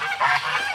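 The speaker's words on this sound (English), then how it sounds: "Rocky, look at the ducks" Ducks call out in a few honking, nasal quacks close by, loud and overlapping within a brief burst, with no talking.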